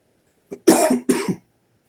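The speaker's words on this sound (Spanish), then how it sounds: "Me dio tos seca." A short, dry cough in two harsh bursts right up close, with brief silence before and after.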